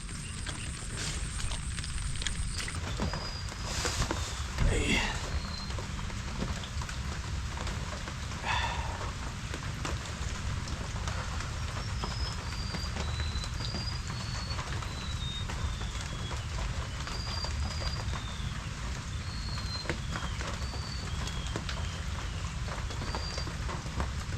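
Steady rain falls and patters on surfaces outdoors at a site where the roof is still unfinished, a dense continuous hiss of raindrops with occasional faint bird calls.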